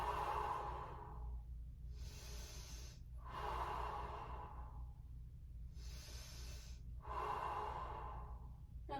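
Slow, deep breaths during a yoga pose, three long airy inhale-exhale cycles each lasting about three seconds, close and fairly quiet over a low steady room hum, with no talking.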